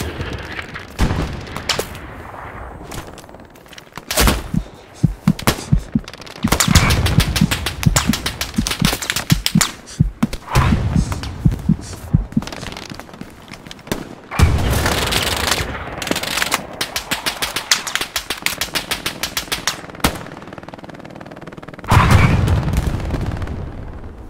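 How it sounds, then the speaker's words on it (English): Battlefield gunfire in the WWII shooter Hell Let Loose at Sainte-Mère-Église, loud machine-gun bursts and rifle shots with occasional booming explosions, intermittent and close, with quiet gaps between volleys. "Somebody's shooting at us."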